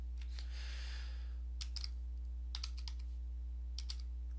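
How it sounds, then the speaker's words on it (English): Keystrokes on a computer keyboard come in short clustered bursts of clicks, typing text into a software rule over a steady low electrical hum. "I have to type it in exactly as I typed in my multi-value list"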